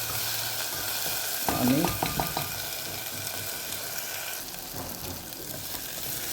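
Onions sizzle and get stirred in a pan while a mutton curry is being made, a burst of scraping stir strokes rising over a soft steady frying hiss; one brief spoken word in the middle.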